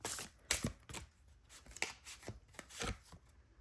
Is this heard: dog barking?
no